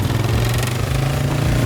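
A motorcycle engine roars steadily and loudly as the rider loses control, a dense continuous drone with no pauses and no speech.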